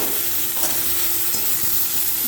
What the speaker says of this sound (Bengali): সবজিগুলো দিয়ে আমি ভেজে নেব।